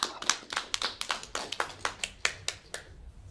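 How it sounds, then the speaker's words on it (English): A few people clapping after a presentation in a small online meeting, sparse, distinct claps at an uneven pace, close and fairly light, fading out after about three seconds. "let's applaud."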